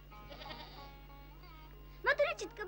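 Young piebald goat kids let out a short burst of several bleats near the end, loud and close, after a quieter stretch with a faint tonal background.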